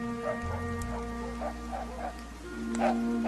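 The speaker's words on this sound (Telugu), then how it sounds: "కుక్కలు మరుగుతాన్నాయి" Dogs bark in a village night scene from a Telugu feature film, a few short yipping barks at a moderate distance over a steady low hum.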